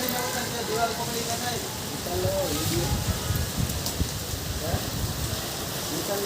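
Light rain falls in Junagadh during a monsoon shower, a steady, even hiss of drops on surfaces lasting throughout at moderate loudness, with faint voices in the background.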